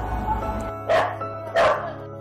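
Two loud dog barks, about half a second apart, from a dog held on a leash indoors while being restrained, with a steady low hum underneath.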